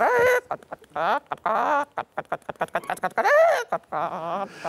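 A woman imitates a hen, giving a quick series of clucks and squawks with short gaps between them and a drawn-out squawk near the end, close and clear in a quiet room.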